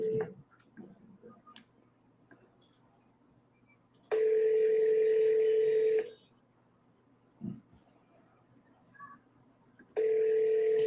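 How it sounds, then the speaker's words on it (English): A phone rings in pulses, each a steady electronic tone lasting about two seconds, with two full rings separated by a long quiet gap and a brief clipped tone at the very start. A few faint clicks fall between the rings. "You guys hear the ringtone good?"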